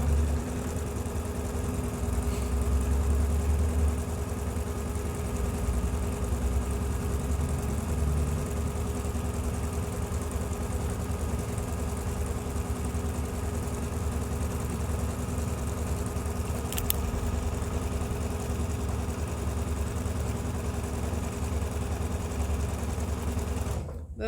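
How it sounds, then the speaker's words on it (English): A sewing machine runs steadily, stitching two quilt fabric pieces together with a quarter-inch seam for a table runner, a continuous close mechanical hum and whir that carries on without pause for the whole stretch. "I am just going to sew these together on one side"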